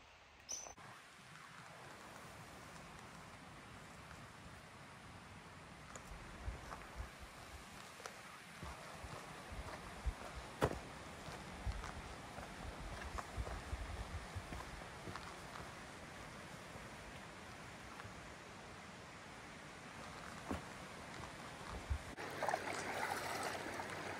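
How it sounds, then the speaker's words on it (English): Water of the west branch of the Pleasant River flows in a faint, steady wash during a hiking crossing, with scattered splashes and footstep-like knocks, no talk. "We are crossing the west branch of the Pleasant River"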